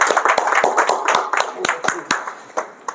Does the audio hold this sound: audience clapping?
yes